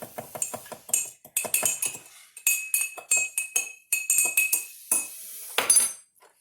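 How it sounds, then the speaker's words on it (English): A spoon clinks rapidly and repeatedly against a glass while stirring sugar, in quick rhythmic bursts, close up, with short pauses between. "Then we're going to mix it to dissolve as much sugar as we can."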